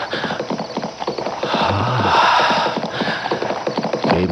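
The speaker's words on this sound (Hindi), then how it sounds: "घोड़े के टापों की आवाज" Horse hooves clip-clop in a steady rapid rhythm, loud and close, with a brief low tone midway and a rushing background throughout.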